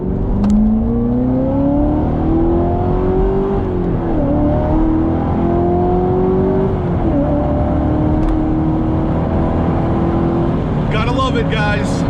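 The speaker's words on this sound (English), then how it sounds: "We're going to hop in the car and head up there now." A C7 Corvette ZR1 engine hums steadily from inside the car, its pitch rising as it accelerates through gears, with constant road noise throughout.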